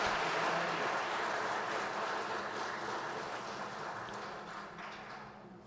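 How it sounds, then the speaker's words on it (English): A conference audience at a Solar Group event in Moscow applauds in a dense, sustained wash of clapping that slowly fades toward the end. "A round of applause to Martha."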